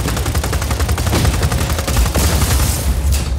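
Rapid automatic gunfire aimed at a generator in the video game Just Cause 4, a loud, continuous stream of shots with booming low end that keeps going for several seconds without any break and no talking.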